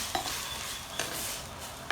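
A spoon scrapes and stirs through spinach in a pot over a soft steady sizzle, with a few light clinks against the metal.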